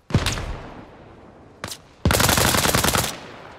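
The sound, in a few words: gunfire from an enemy in a sniper video game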